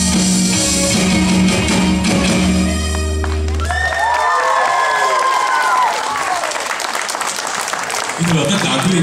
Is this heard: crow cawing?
no